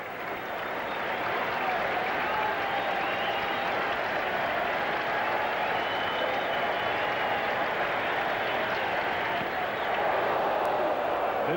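Baseball stadium crowd at a Cincinnati Reds at New York Mets game cheering on the batter with two strikes, a continuous roar of clapping and voices at steady loudness.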